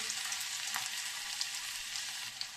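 Garlic frying in hot oil in a pan, a steady dense sizzle with faint crackles throughout, close and even, with no voices.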